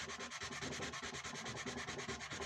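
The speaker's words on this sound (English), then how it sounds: "So I'm just going to sand a small area here" Sandpaper rubbing over a small patch of a porthole, a steady, close scratching with a quick back-and-forth rhythm that continues throughout without any voices.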